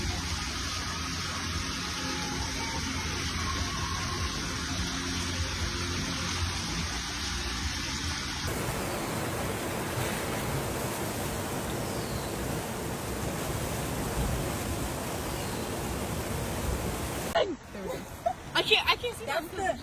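A flooded creek rushing through Davenport, Iowa, a loud, steady broadband roar of churning water that continues unbroken for nearly twenty seconds before rougher, gustier noise breaks in at the end.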